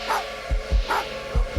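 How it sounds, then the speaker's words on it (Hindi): Dogs bark outside a mansion at night, several close, deep woofs in an uneven rhythm with a few higher yelps between them. "हवेली के बाहर से अभी भी कुत्तों के भौंकने की आवाजें आ रही थी।"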